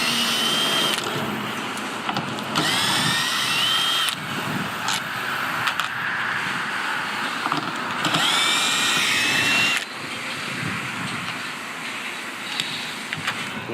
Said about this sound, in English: The first thing you want to do is remove the 4 holding screws on your lights.